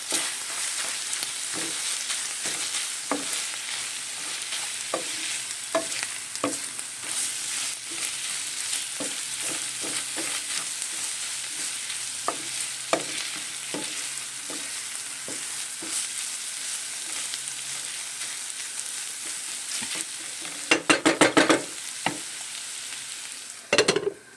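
Chicken livers sauté in a hot pan with red pepper, black pepper and salt, giving a steady close sizzle broken by repeated soft scrapes and clicks of stirring, and a brief cluster of louder clatter near the end.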